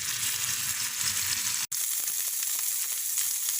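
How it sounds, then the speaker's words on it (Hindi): Chicken seekh kababs frying in a pan, an even, steady sizzle and crackle close by, broken by one very brief cut-out partway through, with no talking. "कबाब हर तरफ से फ्राई हो चुके हैं।"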